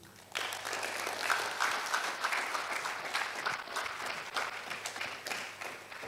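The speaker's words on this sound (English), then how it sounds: "Please, let's keep clapping for our speaker, Mr. Akwesi Agyeman." Audience applause for a speaker at the 2023 African Business Opportunities Forum and Expo, steady sustained clapping from a crowd filling the room for several seconds after a brief quieter start.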